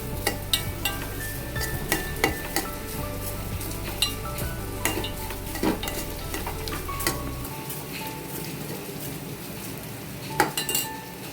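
Finely chopped sweet potato fries in a pan for kheer, a steady close sizzle broken by repeated scrapes and clinks of a spoon stirring against the metal.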